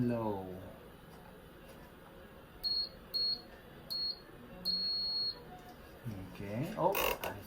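Morse code beeps sound as thin high electronic tones, three short ones followed by one longer tone, clean and fairly quiet over a faint hum, with a voice talking just before and after.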